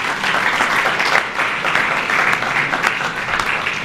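Audience applause at a book launch in Mauritius, a steady, full round of many people clapping, loud and continuous from start to finish.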